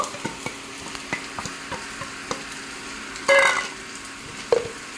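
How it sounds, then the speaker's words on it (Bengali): Chopped onion frying with turmeric, cumin and coriander powder, a steady low sizzle under regular spoon taps and stirs against the pan, close by, with a couple of louder clatters and no voices. "এখানে নিয়েছি আমি পেঁয়াজ কুচি নিয়েছি আমি হলুদ গুঁড়ো জিরে গুঁড়ো ধনের গুঁড়ো দিয়ে ভালো করে মিশিয়ে নেব"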